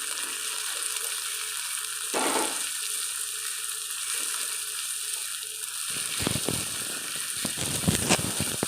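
Chopped onions hit hot oil in a pan for a katla fish curry, a steady close sizzle with bursts of louder hissing and spattering in the later seconds, and no talking.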